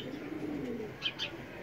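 Low, throaty cooing from a Ferozpuri pigeon, steady and near, with two short higher chirps near the end.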